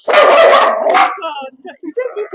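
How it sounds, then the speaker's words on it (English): A dog gives a loud close bark or two, then whimpers and yips as a person talks alongside. "you don't need to bark at your daddy"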